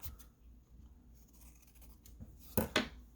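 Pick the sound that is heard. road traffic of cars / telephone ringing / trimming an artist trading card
trimming an artist trading card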